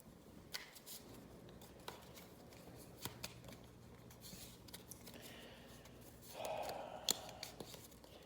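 Discard cards from a board game are shuffled by hand in quiet, repeated riffling bursts, with a louder, fuller shuffle near the end; no talking.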